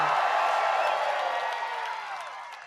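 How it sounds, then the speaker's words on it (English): A large rally crowd in Iowa cheering and whooping, a dense wash of voices and shouts that stays loud and steady, then eases slightly toward the end. "What a crowd"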